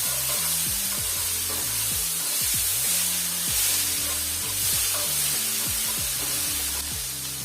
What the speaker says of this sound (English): So I'm just going to cook this for a couple of minutes, if that, just to give it, just to sort of toss it all together.